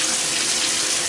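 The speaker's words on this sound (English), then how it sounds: "set to shower, so we're going to get sprayed just using the hot water" Hot water sprays steadily from a shower with strong pressure, a dense continuous hiss of running water that stays close and level throughout.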